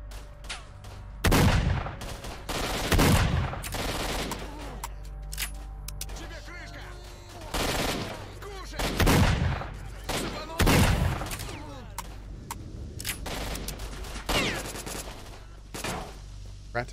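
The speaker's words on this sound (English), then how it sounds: "I call it the sniper shotgun." A custom sniper shotgun fired in the video game S.T.A.L.K.E.R.: Shadow of Chernobyl, several loud sharp blasts spaced a second or two apart, with someone talking between shots.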